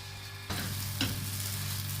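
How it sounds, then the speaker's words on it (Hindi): Flaxseed roti cooking in coconut oil on a ceramic pan, a low hum that bursts into a steady sizzle halfway through, with a short scrape soon after, close and continuous. "इसके अंदर हमने कोकोनट ऑयल डाला है और अब हम इसको पहले एक साइड से और फिर दूसरी साइड से जो है ये पका लेंगे"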